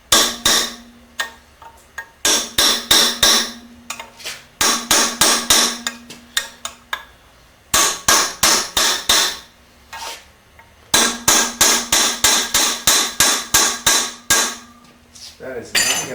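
A hammer tapping an oil pump pickup screen into place on a 350 small-block Chevy engine, in clustered bursts of sharp, ringing metallic taps separated by short pauses, loud and close with no voices.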